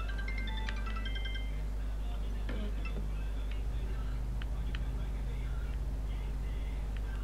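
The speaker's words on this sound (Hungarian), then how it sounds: "Ez meg hívnak mobilon" A mobile phone ringtone chimes in short repeated tonal bursts early on, fairly faint over a steady low engine drone from an American Truck Simulator livestream, then fades under the rumble.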